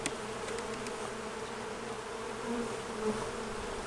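Honey bees swarming around an opened hive box during a spring frame inspection: a steady, low, dense buzzing drone that stays close and even throughout, with no voices.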